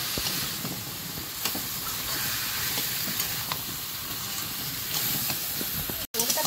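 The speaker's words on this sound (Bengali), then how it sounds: "এবারে ওল আর আলু।" Elephant foot yam and potato frying with spices in a pan, a continuous dense sizzle and hiss with small pops, close and steady throughout.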